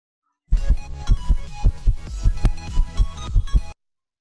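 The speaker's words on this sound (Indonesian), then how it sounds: "manipulasi detak jantung itu kita menggunakan kain. Enggak, kain kita tarik-tarik kayak gini. Dia menghasilkan kayak detak jantung." Heartbeat foley is made by tugging a piece of fabric. It gives a steady run of soft, low thumps in a regular throbbing rhythm, close and fairly loud, with no speech.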